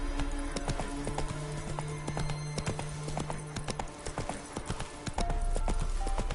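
Roach, a horse in The Witcher 3, gallops with steady, rapid hoofbeats running through the whole stretch, over a bed of game music and ambience, with a hint of a whinny.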